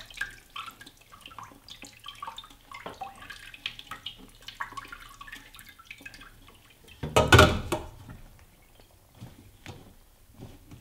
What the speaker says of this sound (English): I'll even squeeze some of the juices out.